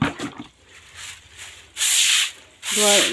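A broom scrubs a wet floor by a water tap in three harsh, loud bristle strokes, the last two long and forceful, with quieter scuffing between them and no speech.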